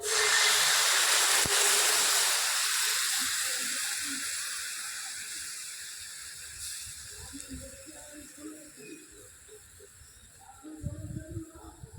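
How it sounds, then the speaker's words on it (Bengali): Milk pouring into a hot pan of ghee-fried bread sets off a loud, broad sizzle and hiss. It fades steadily to a softer crackle with light bubbling pops, then flares briefly again near the end. "ঘি দিয়ে এটাকে ভেজে নিয়েছি, এবার দিয়ে দিচ্ছি দুধ"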